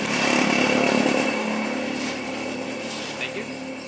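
Coconut waste shredder machine running with a steady, loud mechanical roar and buzzing whir, with a person talking over the noise.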